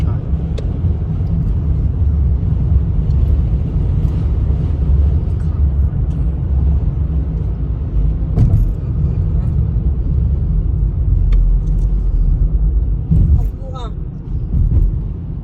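Steady road traffic forms a continuous low rumble with a few passing swells, carried along under voices talking nearby throughout.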